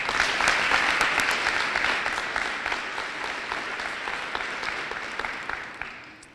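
A school district address audience breaks into a full round of clapping, dense and sustained for several seconds, loudest at the start and slowly thinning toward the end.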